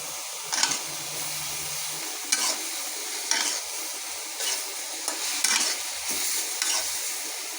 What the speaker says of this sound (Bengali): এই যে শিং মাছগুলো যে ভেজে রেখেছি এগুলো দিয়ে দেবো।